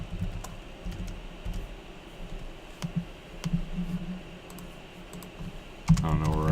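Computer keyboard typing, soft quick key clicks in short runs at low level against room hum, and a person starts talking at the end.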